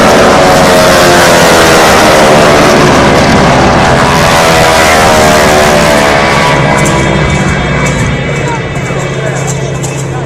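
Racing planes lapping an air race course at the Boundary Bay Airshow, a loud continuous engine drone with wavering, sliding pitch as they pass, heavy and close throughout, with commentary audible over it.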